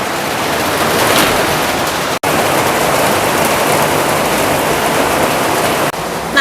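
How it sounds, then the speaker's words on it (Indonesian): Very heavy rain mixed with wind pours down in Taipei, a loud, unbroken roaring hiss that stays nearly constant apart from one brief dropout, with no voices. "Hujannya deres banget"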